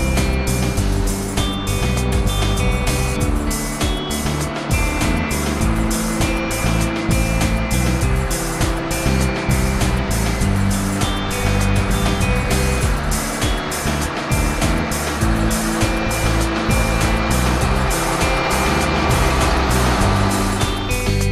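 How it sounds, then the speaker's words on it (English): A heavy road train truck crawls across a mine haul road. Its engine gives a loud, continuous, droning rumble with a steady harmonic whine that holds unchanged for the whole stretch, with no speech. "slows the road train to a crawl and gets across just as another dump truck approaches"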